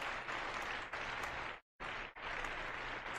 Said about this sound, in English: Round of applause for Steven.